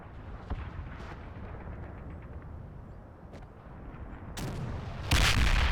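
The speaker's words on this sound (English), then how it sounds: "See if we get any more of that indirect fire." Indirect artillery fire in the war game Combat Mission Red Thunder, distant booms and scattered impacts over a low rumble that swell into louder, closer blasts near the end, with no voices.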